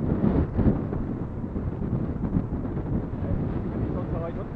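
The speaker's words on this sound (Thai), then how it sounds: "ลมแรงครับลมแรงสันเขื่อน" Strong wind gusts across a reservoir dam crest while cycling, a loud, steady rumbling buffet against the microphone with uneven surges throughout and no clear talk.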